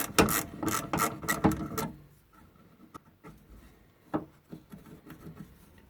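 A fuel filter fitting under a car's rear passenger seat is unscrewed with a tool. A close burst of rapid ratcheting clicks and scraping comes first, then quieter scattered clicks and taps follow.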